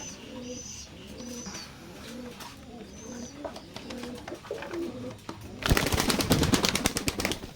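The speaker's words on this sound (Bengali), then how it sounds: "কবুতরগুলো এতটাই অ্যাক্টিভ যে উঠতে বাধ্য হচ্ছে। এক একটা কবুতর এক এক দিকে ছোটাছুটি করতেছে।" Caged Teddy pigeons of an imported Oman bloodline give a run of soft, rhythmic coos close by, then break into a loud, flurrying burst of wingbeats and scrabbling as they scatter inside the cage.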